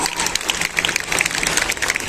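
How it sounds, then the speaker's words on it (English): A hall audience at a school annual celebration applauds the school principal with dense, sustained clapping that stays loud and even for a couple of seconds; no voices stand out. "Come on, she definitely deserves a huge round of applause."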